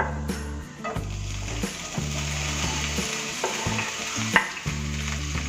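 Chopped tomatoes hit hot cooking oil in a pan for lemon rice, a loud close sizzle and crackle with repeated stirring scrapes, sputtering on throughout without speech.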